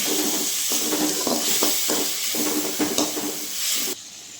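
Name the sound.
sautéing curry ingredients in a pan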